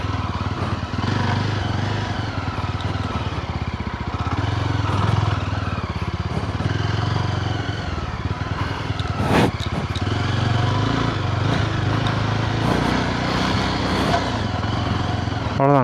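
A motorcycle on road tyres rides a rough, muddy trail near Varatumedu in Vagamon. Its engine drones steadily and close throughout, and someone talks over it.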